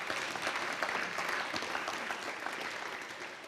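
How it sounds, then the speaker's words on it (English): Members at a museum's annual meeting applaud the board of trustees with a moderate, steady round of mixed clapping from a seated crowd that tapers slightly toward the end. "Let's give them a round of applause."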